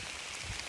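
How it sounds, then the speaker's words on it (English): Dense, steady hiss of rain pouring down hard on the Appalachian Trail, a constant wash of drops with no voices. "It is raining really, really, really hard."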